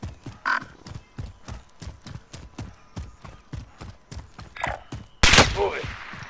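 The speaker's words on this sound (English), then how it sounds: "Oh, someone's shooting at me." Rapid gunfire in the video game Call of Duty Warzone, a steady rhythmic stream of sharp shots at moderate distance, ending in a louder close burst of noise.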